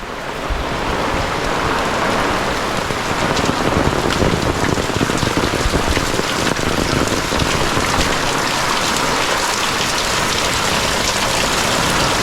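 Steady, heavy monsoon rain pours down continuously in a Konkan village, a dense hiss of drops drumming on surfaces with no voices.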